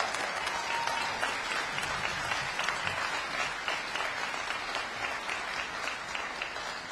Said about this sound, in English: I want an applause on that one